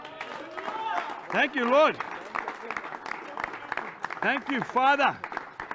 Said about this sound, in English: Boys, please give the Lord a big clap, man.